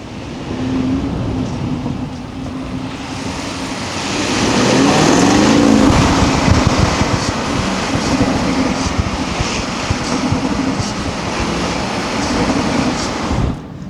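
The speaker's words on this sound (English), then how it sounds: "I want to see if I can get a gurgle sound of the exhaust" Car exhaust rumbles and burbles in a low, uneven gurgle that grows louder in the middle before settling, with wind noise around it and no one speaking.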